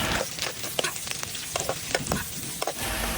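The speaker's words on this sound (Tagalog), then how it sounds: "igigisa na rin ho natin yung bawang, sibuyas at ho yung luya" Garlic, onion and ginger sizzle and crackle steadily in hot oil for a Filipino laing dish, with repeated stirring scrapes and clacks against the pan sounding close and continuous throughout.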